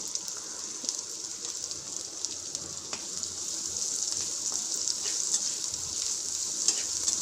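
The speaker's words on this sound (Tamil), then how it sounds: "சின்ன வெங்காயத்தை நல்லா வணக்கணுங்க." Chopped shallots sauté in hot oil for a Salem-style fish curry, giving a continuous, even sizzle that holds steady throughout with a faint stirring texture underneath.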